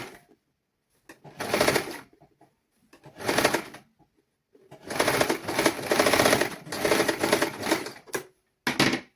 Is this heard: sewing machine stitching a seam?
yes